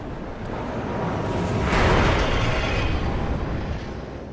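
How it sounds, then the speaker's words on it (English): An energy explosion in Armored Core 6, a roaring blast that builds and peaks in a bright whooshing burst before a sustained rumbling decay, loud and without speech. "But this is what I mean by like that energy explosion."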